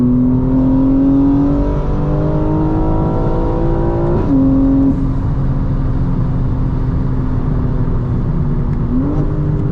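A 900 hp 2025 BMW M4 Competition xDrive on new suspension drones loudly and steadily from inside the cabin, its engine pitch climbing and then dropping sharply with each of two upshifts.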